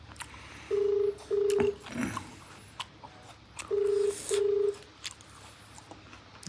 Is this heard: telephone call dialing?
yes